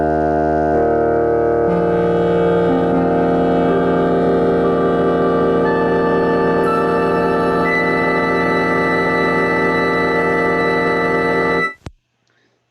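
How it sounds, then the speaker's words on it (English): Perfect fifths stacked on top of one another, sustained tones entering one after another and building into a thick, droning, organ-like chord that holds steady, then cuts off sharply with no speech. "Here's what the perfect fifths sound like if you just pile them on top of each other."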